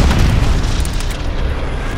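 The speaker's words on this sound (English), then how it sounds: "Enemy bomb incoming." Enemy bomb explosion in the World War II shooter Call of Duty WW2, a loud, close, sustained rumbling boom that rolls on and slowly decays over about two seconds.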